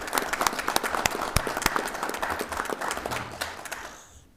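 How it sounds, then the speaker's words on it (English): Audience at a city council meeting giving a round of applause, a burst of many close hands clapping with sharp individual claps, thinning out and fading near the end. "Let's give these two ladies a round of applause."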